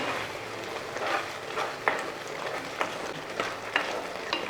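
Pumpkin and pineapple curry being stirred in a pan after half a teaspoon of ground cumin goes in, giving a soft, steady scraping and gentle sizzle with a few sharper spoon knocks against the pot.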